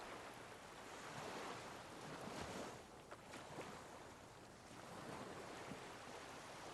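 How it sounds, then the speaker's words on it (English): Waves lap against a skiff swaying by a dock in the Disco Elysium video game, a steady soft wash of water with gentle swells and faint breezy hiss, no voices. "The skiff is swaying on the waves by the dock."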